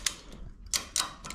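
A ratchet strap is cranked tight on a 1967 Tempest wagon chassis, giving a few sharp, close mechanical clicks spaced irregularly over a quiet background.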